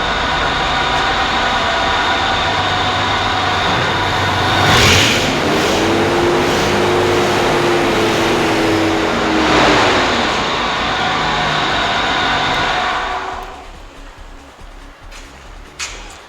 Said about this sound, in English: Absolutely, there's an exhaust leak there.